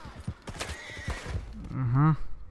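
A horse in Red Dead Redemption 2 lets out a short, quavering whinny near the end, following a stretch of talking and soft hoof-like thuds.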